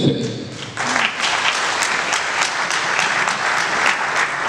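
An audience at a Congolese diaspora forum claps steadily, a dense and loud burst of applause that carries on without a break and with no voice over it.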